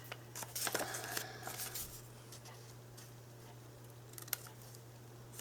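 Scissors trim fabric on a gusseted pocket, making a quick cluster of crisp, quiet snips near the start and one more faint snip later, in an otherwise hushed room.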